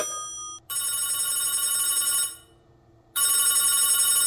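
An old-style telephone bell rings in two long bursts separated by a short pause, loud and close, with no voices.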